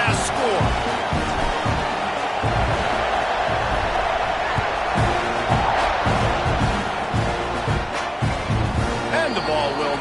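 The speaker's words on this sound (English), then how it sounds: "this crowd is buzzing after that last score" A large stadium crowd at a college football game roars and murmurs continuously after a score, a dense wash of cheering voices with occasional claps and shouts throughout.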